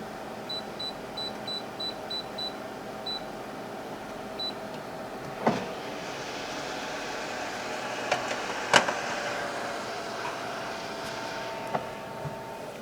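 An air fryer running at 400 degrees on its air-fry setting gives off a steady, even fan hum, opening with a short run of high control-panel beeps and a few soft clicks and knocks.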